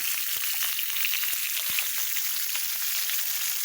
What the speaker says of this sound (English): I use canola oil, and then you dump the ingredients in the oil,